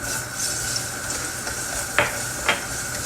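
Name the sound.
garlic sautéing in oil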